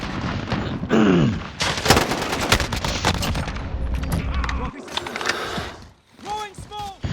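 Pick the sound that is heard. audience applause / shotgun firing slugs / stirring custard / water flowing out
shotgun firing slugs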